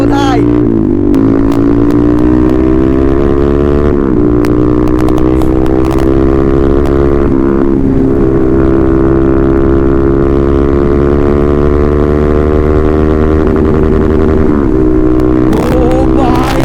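A Duke motorcycle's exhaust roars loudly and continuously while riding, the engine pitch rising and falling with throttle changes, and a rider's voice talks over it at moments.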